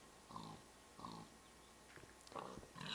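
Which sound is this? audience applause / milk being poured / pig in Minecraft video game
pig in Minecraft video game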